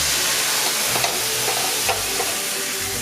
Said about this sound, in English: We're gonna flambe our carrots.